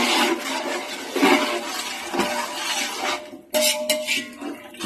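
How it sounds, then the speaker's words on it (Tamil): Mutton seeraga samba biryani is stirred in a pot, giving scraping and clinking of a spoon against metal and a soft wet churning. The sounds come in uneven strokes, close up, with no voices. "இப்போ நல்லா கலரி விட்டுக்கலாம்."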